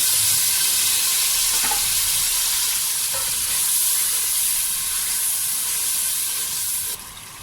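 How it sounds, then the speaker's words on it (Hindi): Spice paste sizzles steadily in hot oil, a constant broadband frying hiss with faint stirring clinks throughout, close and loud, with no talk. "ऑयल हमारा गर्म हो गया। अब हम इसके अंदर जो हमने पेस्ट बनाया था वो शामिल करेंगे।"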